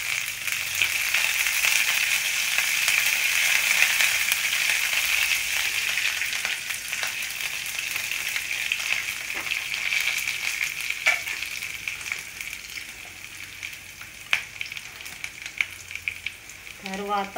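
Green chillies, onions and freshly picked curry leaves fry in hot oil for a long bean fry, making a loud continuous sizzle that slowly softens while a spatula stirs now and then, close by and with no voices.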